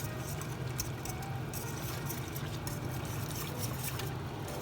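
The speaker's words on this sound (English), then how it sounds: "Now I will take a whisk and" A whisk stirs creme fraiche into a pot of soup, making a steady, faint wet swishing with light metallic clinks throughout and no talking.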